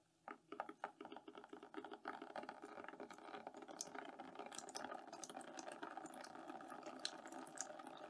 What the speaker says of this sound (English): now I've got lots of water coming out